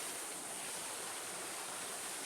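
Small creek running through low bushes close to a waterfall in the Grand Canyon, a steady, quiet wash of flowing water with no breaks and no voices.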